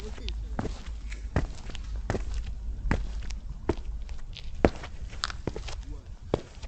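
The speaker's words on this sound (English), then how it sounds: "You hear the footsteps, right?" Footsteps in a scary video game, a steady series of distinct thuds moving at walking pace, some louder and closer than others, with no one talking over them.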